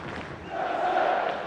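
Football crowd at Stamford Bridge during Chelsea v Liverpool, a broad swelling roar of many voices, fairly loud and continuous over the brief moment.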